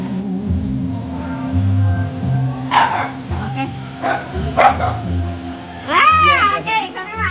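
A dog barks close by several times, in sharp yips and bow-wows scattered through the stretch. Adults and someone talk over and between the barks.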